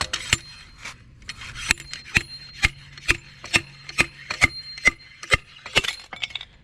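An old seal is pulled from the steering knuckle of a 2002 Ford F-250 4x4 front axle with metal tools, giving about a dozen sharp metallic knocks and clinks in a steady, evenly spaced rhythm, close by with no talking.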